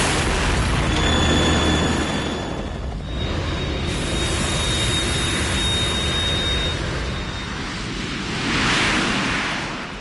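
A Harrier jet in the Metal Gear Solid video game roars with a loud rushing jet whine, swelling and fading with booming rumbles and a thin high tone over about ten seconds, no voices.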